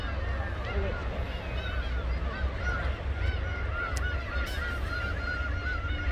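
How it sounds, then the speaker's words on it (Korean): Many seagulls honk and cry over a low rumbling background, a busy outdoor flock calling continuously at moderate distance at a seaside spot on Jebudo, Korea, on an overcast day with boats nearby. "갈매기들이 굉장히 많이 있습니다."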